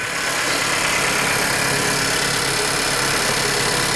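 A Honda CR-V engine idles while warming up after repairs, a steady close, continuous rumble with no variation.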